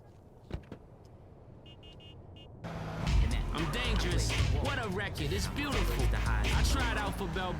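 A flying car from GTA San Andreas drives in-game, its engine drone rising and holding steady after a quiet start, while someone talks over it.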